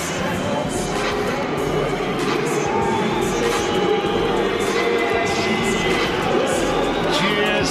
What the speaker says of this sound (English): Cheers from the crowd.